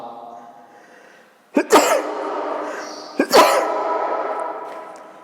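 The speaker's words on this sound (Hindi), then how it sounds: "मुझे छींक आ गई, मैंने खांस दिया है" A close, sharp sneeze bursts out, and about two seconds later a cough follows with the same abrupt, breathy attack and a short voiced tail. Both come from a man in an indoor classroom-style setting, with a quiet pause between them.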